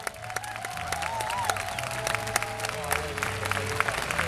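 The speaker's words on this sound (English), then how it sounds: "I need to hear all of your applause for the first one" Audience applause at an RCMP Sunset Ceremony, steady clapping from a crowd with light cheering, mixed with background music and sustained tones throughout.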